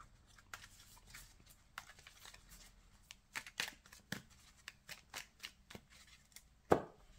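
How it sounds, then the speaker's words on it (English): A deck of Cardfight!! Vanguard cards is shuffled during a tabletop game, a run of soft crisp riffling bursts in irregular rhythm, close and quiet, with one sharper snap near the end. "Then he goes to the deck and you shuffle your deck."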